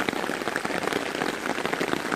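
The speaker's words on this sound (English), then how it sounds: "this is a proper downpour." Heavy rain pours onto a tarp shelter in a forest during a storm, a dense, close, steady patter with no voices.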